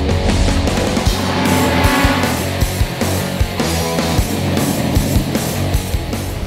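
Turismo 1600 touring race cars of the Brazilian championship roar past on track, several engines droning loud and steady with sharp revving peaks and gear changes, no voices.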